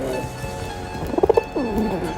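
A pigeon gives a short burst of soft, throaty cooing pulses against a steady background hum on a high city ledge.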